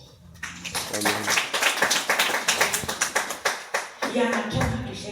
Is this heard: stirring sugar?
no